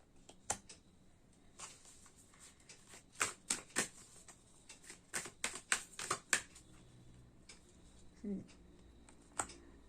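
Playing cards being shuffled and dealt, a string of crisp close flicks and snaps clustered in the middle with scattered single taps around them, fairly quiet and with no talk over them.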